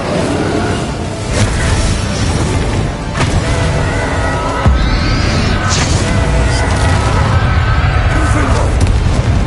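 Spell blasts and explosions in the Hogwarts Legacy video game, loud, dense booms and bursts rolling continuously with layered combat noise and no pauses.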